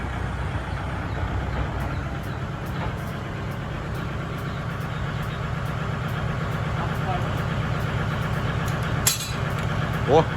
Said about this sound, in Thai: ฟังเสียงเครื่องยนต์ครับ